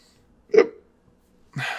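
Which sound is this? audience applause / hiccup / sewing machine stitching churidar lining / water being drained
hiccup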